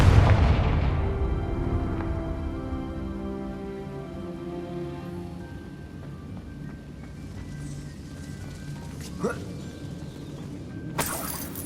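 A Confringo spell explosion in Hogwarts Legacy opens with a loud booming burst that decays into a long rumbling, crackling tail, with a couple of sharp snaps later on.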